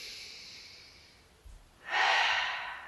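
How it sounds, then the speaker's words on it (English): A long, audible inhalation taken during a backbend bridge exercise, rising after a quiet moment into a strong, airy breath held close to the microphone. "We're going to have this last big breath here."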